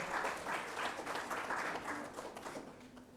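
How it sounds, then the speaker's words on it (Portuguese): Applause from a seated audience at a presentation of child labour survey results, a steady moderate wash of clapping lasting the whole few seconds, somewhat distant. "Forte aplausos, senhoras e senhores"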